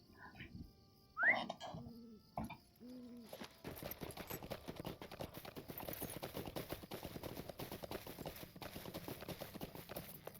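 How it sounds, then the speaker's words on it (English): Horse hooves clip-clop in a steady, quick rhythm in the video game LOTRO, following a few brief game tones, and continue at moderate loudness without talk. "Let's get on a horse."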